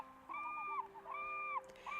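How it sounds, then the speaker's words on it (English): Seagulls cry in the video game Birushana: Rising Flower of Genpei, two drawn-out wailing calls about a second apart over a quiet seaside ambience with a low steady tone, soft and somewhat distant. "I'm not sure I'd call that seagull noise singing"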